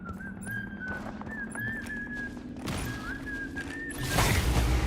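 A character whistles a wavering tune in the video game Marvel Rivals, a clear melodic line over busy game noise, ending under a swell of louder effects.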